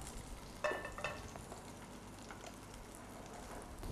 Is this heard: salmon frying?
yes